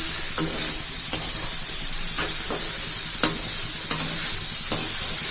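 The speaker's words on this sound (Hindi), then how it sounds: "अब इन्हें ये देखिए इस तरह से चलाऊंगी धीरे धीरे से" Tamarind rice (imli chawal) being stirred slowly in a pan, steady soft sizzle with a scrape of the spoon about every second or so, close and fairly loud, no talking.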